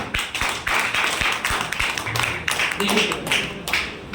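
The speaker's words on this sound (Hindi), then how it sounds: "आइए आइए एक बार जोरदार ताली बजा दीजिए, जोरदार" An audience at a business plan presentation claps loudly and continuously, with a few sharper individual claps and taps standing out near the front and a voice talking over the applause.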